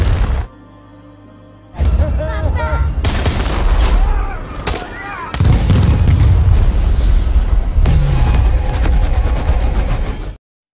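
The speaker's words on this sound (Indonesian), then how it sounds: "menembakkan rudal ke arah para teroris" Missile strike explosions in an action war film, several loud booms and blasts with rumbling aftermath and debris, after a brief quieter tonal stretch, continuing heavily to the end.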